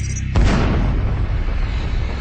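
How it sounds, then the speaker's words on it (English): A sudden heavy boom erupts after a brief quiet start, then rolls into a long loud rumbling roar that sustains to the end, a sound-effect explosion depicting a massive cosmic blast. "satellites picked up the greatest cosmic explosion ever recorded."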